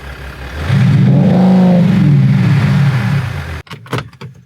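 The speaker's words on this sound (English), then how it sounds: "the final thing that I love about the Maserati Ghibli is the exhaust note." A Maserati Ghibli engine is revved once, its exhaust note swelling into a loud, deep rumbling roar that holds for about three seconds, then cuts off into quieter idle and brief clicks.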